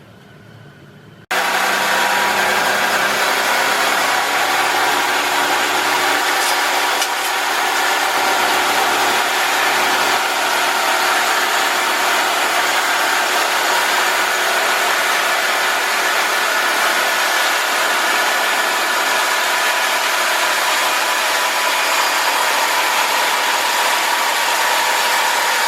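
A homemade sawmill's engine starts up and runs loud and close, holding a constant droning hum for over twenty seconds without pause.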